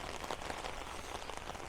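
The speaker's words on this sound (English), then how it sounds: "as you can see, it is pouring down rain right now." Heavy pouring rain outside a house, a dense, steady wash of drops spattering on surfaces, continuous and fairly close with no voices.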